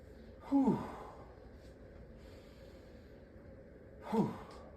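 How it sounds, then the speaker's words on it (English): Exaggerated deep breathing, used as a calming exercise. A strong, close inhale is followed after a long still pause by a matching drawn-out exhale, with no other sounds around the two breaths. "exaggerated inhale, hold it for a second, exaggerated exhale"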